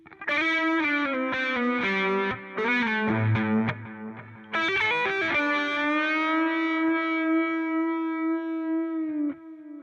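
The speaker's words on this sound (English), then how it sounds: "You can hear it's really giving a delay to that phaser sound" Electric guitar with a phaser tone run through delay on a Spark 2 amp, sustained notes and short melodic runs trailing echoes, loud and close with a long ringing final note.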